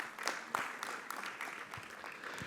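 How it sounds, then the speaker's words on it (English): Audience applause at a tech conference: a modest round of scattered clapping, faint and somewhat distant, steady over a couple of seconds. "This deserves a huge round of applause."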